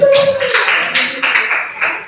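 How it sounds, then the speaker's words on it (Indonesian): Students in a junior high school classroom give a short burst of scattered clapping lasting about two seconds, with a voice talking over it. "tepuk tangan dulu buat Torin"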